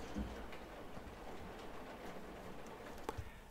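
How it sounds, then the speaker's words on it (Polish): Rain starting to fall outdoors, an even, continuous hiss of drops with a few faint taps and knocks beneath it. "Deszcze zaczął padać."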